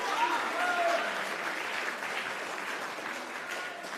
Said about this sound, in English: Another round of applause, please, for that sister.